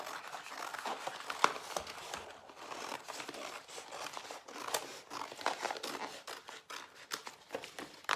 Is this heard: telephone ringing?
no